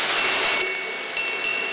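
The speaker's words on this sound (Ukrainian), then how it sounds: "Бачите, що він витворяє на воді. Вода під градом кипить." Hail falls on a river, the Tikych, during an autumn thunderstorm, making a hissing, seething wash over the water that swells and fades in short bursts over under two seconds.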